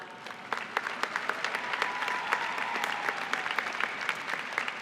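A crowd claps at the 2018 Heinz College diploma ceremony, with many individual hand claps standing out within a steady, moderately loud round of applause and no talk.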